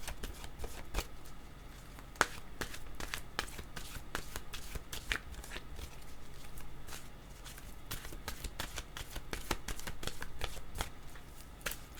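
Tarot cards are shuffled continuously at close range in rapid, irregular riffles and slaps that run for the whole stretch, with no talking.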